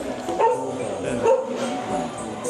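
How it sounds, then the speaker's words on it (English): Dogs barking and yipping excitedly indoors at a coffee shop in Ho Chi Minh City, a few sharper yaps over a busy background murmur of voices. "These dogs are going nuts, so Biscuit can't come in."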